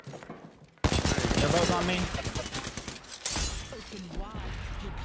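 Rapid gunfire bursts from the video game Apex Legends, loud and dense for several seconds, with players talking over the shots.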